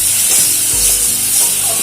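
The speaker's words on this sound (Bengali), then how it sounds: "চিংড়ি মাছগুলো ভাজা হয়ে গেছে" Shrimp sizzle steadily in hot mustard oil as a spatula stirs and scrapes the pan, a loud, close, unbroken crackle with no voices.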